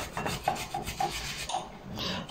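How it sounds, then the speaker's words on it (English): Ginger being grated by hand in a home kitchen while making spaghetti Bolognese: a steady series of close, scratchy rasping strokes repeat in an even rhythm, with no talking. "Tebi is now grating her ginger"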